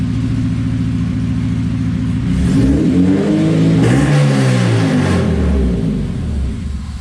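A K20A2-swapped Honda EG hatchback with a MagnaFlow exhaust, idling with a steady rumble and then revving up and back down, loud and close throughout.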